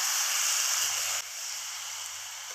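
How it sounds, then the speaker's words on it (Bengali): Desi chicken pieces sautéing with spices in a pan for a spicy UP-style chicken curry, giving a steady close hiss that drops slightly partway through, with a faint low rumble underneath. "মশলার সাথে মাংসটা আমি ভালোভাবে মিশিয়ে কষিয়ে নেব"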